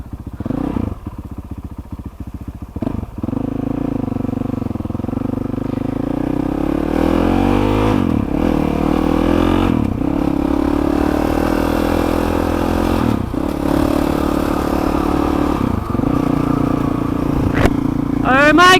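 A Honda CRF450RL motorcycle with a Yoshimura exhaust revs loudly and close by, rising and falling through repeated throttle blips over a steady rumbling idle, with people talking and exclaiming over the engine.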